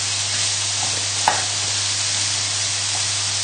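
Spaghetti carbonara ingredients fry steadily in a pan on the heat, a constant broadband sizzle with a low hum beneath and one brief knock or clatter partway through, no talking.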